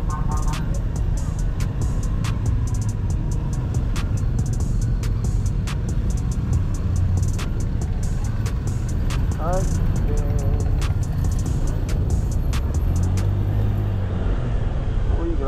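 Street traffic passing around a Honda Click 125 scooter on a busy road, a constant engine and road rumble with occasional horn-like tones and ticking, close and loud, with someone talking over it.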